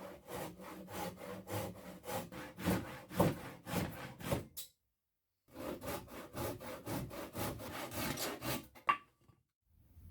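Hand saw cutting through the timber legs of an old wooden A-frame ladder, steady back-and-forth rasping strokes close by, pausing for about a second midway before resuming and trailing off.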